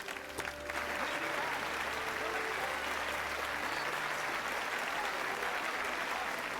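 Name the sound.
crowd cheering in Final Fantasy XII cutscene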